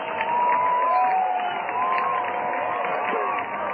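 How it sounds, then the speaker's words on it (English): Crowd at a minor league baseball game, Cedar Rapids Kernels at Fort Wayne Wizards in 2004, with a continuous broad roar of cheering heard through a narrow broadcast-quality feed. "Listen to the crowd."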